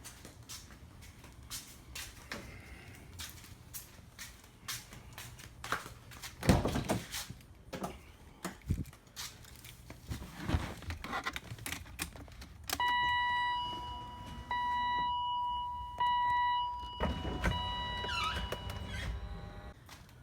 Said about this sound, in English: I'm just going to pull the top down